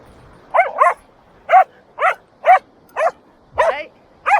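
Dogs barking on a large beach on Scotland's NC500 east coast: eight sharp, close barks in an uneven rhythm, some in quick doubled pairs, with quiet gaps between.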